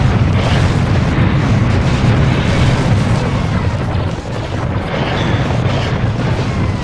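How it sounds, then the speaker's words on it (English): Loud, continuous booming explosions from a rocket launcher in the first-person shooter Serious Sam HD, dense rumbling blasts overlapping with barely a pause, dipping briefly before resuming at full force. "And you will also find, for your smiting pleasure, a rocket launcher."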